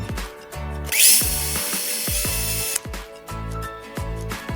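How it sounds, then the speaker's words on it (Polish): Cordless drill spinning a small cleaning wheel against a bicycle part, a close, loud whirring run that repeatedly starts and stops in short bursts with ratcheting clicks, no talk. "brałem sobie na wkrętarce takie kółeczko do czyszczenia tego."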